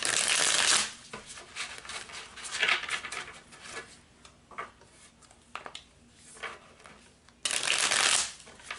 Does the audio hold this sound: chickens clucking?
no